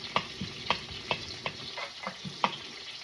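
Garlic frying in a pan for a quick tomato sauce, a steady close sizzle broken by about eight regular scraping stirs of a utensil against the pan.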